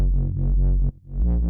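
Audio pushed through a Soundtoys Decapitator saturation plugin on its punish setting, giving a thick, heavily overdriven harmonic tone that sustains loudly, dips briefly, then swells back, with no voices.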